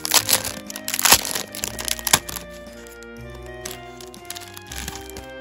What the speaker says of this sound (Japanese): 早速ね、一個ずつ開封していきたいと思います。